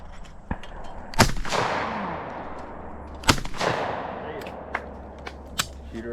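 Shotgun blasts at trap-shooting clay targets outdoors, two loud sharp reports with long echoing tails roughly two seconds apart, followed by a few fainter distant pops.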